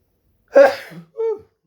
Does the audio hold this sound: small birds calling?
no